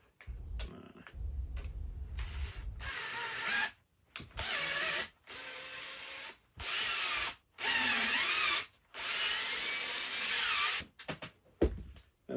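Power drill driving into a wooden crate in a series of short bursts separated by brief pauses, each run a close, loud whir, with some handling knocks at the start.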